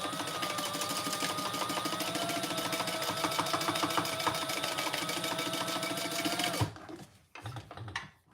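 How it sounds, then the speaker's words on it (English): A sewing machine runs a row of top stitching on a lining piece for a fabric travel pouch, whirring in a fast, even, rhythmic chatter for several seconds before stopping abruptly, followed by a few faint handling sounds. "Let's do a row of top stitching on the lining piece right there."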